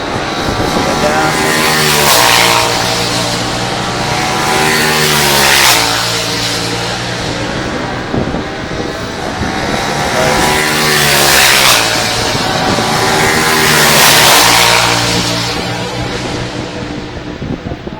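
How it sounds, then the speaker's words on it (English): British Superbike racing motorcycles at Oulton Park scream past in a close pack, engines rising and falling in repeated rev sweeps with gear changes, loud and near, while a commentator talks over them. "they're riding the same engine capacity, they're the same motorcycles"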